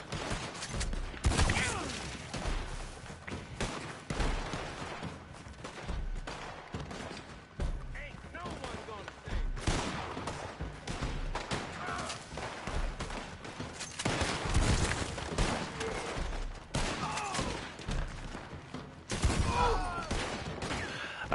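Rapid gunfire in a Red Dead Online wave fight on PS5, with repeated rifle and shotgun-like shots from near and farther off over about twenty seconds, and someone talking over the battle.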